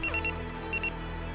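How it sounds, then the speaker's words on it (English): Phone alarm going off in the morning: a bright electronic beeping in quick triple pulses, a pause, then two more pulses, close and clear over a steady low hum, with no talking. "This meant when my alarm went off in the morning, I had to get out of bed and walk to the other room to turn it off."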